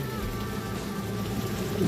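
Heavy rain drums steadily and close on a motorcycle, luggage and tent, a dense continuous downpour without any voices.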